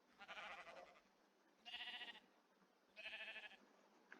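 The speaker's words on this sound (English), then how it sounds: "Oh, I can hear the sheep below me." Sheep bleating in Minecraft in three separate bursts, each a wavering, nasal cry, with quiet gaps between them.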